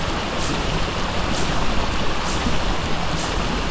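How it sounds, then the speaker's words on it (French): A waterfall in the video game ARK Survival Evolved gives a steady, dense rushing of water, loud and constant throughout, with no voices. "Ici, la cascade."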